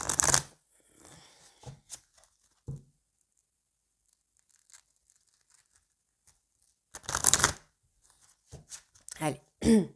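Tarot cards handled and laid down during a reading, with brisk shuffling and slapping bursts at the start and near the end, a few isolated taps in between and a quiet stretch in the middle.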